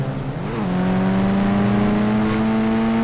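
A GTA video game car engine drones steadily, its pitch dipping briefly and then settling into a sustained hum that grows slightly louder, with no talking.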